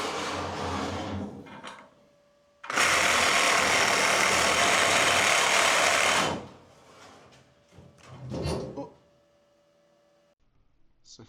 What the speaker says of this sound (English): Grab my trusty Sawzall.